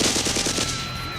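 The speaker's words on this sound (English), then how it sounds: "that same moment, gunshots rang out" Rapid burst of rifle gunshots, loud and close, firing in a fast repeating rhythm before trailing off into a fading echo.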